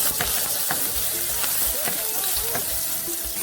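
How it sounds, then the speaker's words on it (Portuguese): Garlic sizzles steadily in a hot pan for rice, a dense continuous frying crackle with occasional stirring clatter, close and fairly loud, with a faint voice briefly underneath. "Agora eu vou estar fazendo meu arroz, vou estar colocando alho."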